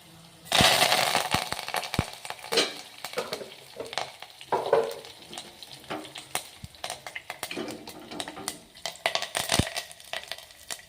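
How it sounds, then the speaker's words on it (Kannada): Curry leaves hit hot oil with crushed garlic for North Karnataka-style tomato sambar. A loud burst of crackling sizzle sets off rapid popping and spattering, which then settles into steady frying with scattered sharp pops, close up and without speech. "ಅದಕ್ಕೆ ಏನು ಮಾಡೋಣ ಅಂದ್ರೆ ನಾವು ಕರಿಬೇವು ಹಾಕೋಣ."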